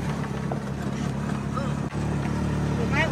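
Working tractor engine running as a steady, loud mechanical drone throughout, with people talking over it nearby.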